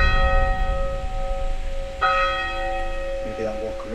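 Church bells ring out on a night at Pendle Hill, a sustained sequence of clear metallic strikes with long ringing overtones, loud and close over a low background rumble.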